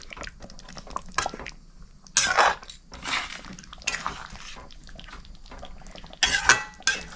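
Fish korma of rohu pieces with garam masala being stirred in a pan, a spoon clinking and scraping against the metal in scattered bursts, with soft wet sloshing between strokes.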